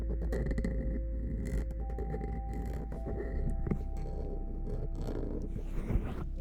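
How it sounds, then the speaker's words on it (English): ASMR microphone scratching: dense, close scraping and rubbing against the mic with low rumbling thumps, continuous throughout and heard without talk. "The mic scratches are always nice too."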